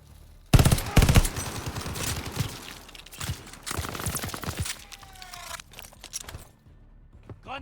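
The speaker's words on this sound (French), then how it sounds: "MG, Deckung suchen." Bursts of machine gun fire in Call of Duty Vanguard, loud close rattling volleys at the start followed by more scattered gunfire, cracks and battle noise through the rest, with a brief whistling tone midway.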